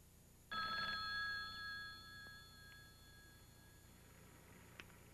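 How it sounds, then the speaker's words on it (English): An old-fashioned telephone bell rings in one loud burst near the start, then fades into a quiet room with faint background noise, in a 1970s documentary about searching for Bigfoot. "Morgan receives a phone call from a logger named Skip Wood."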